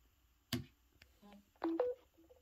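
A Samsung Z Flip3 set on a MagSafe charger gives a quiet charging-start chime, a couple of short bright electronic tones after a soft click, faint and close.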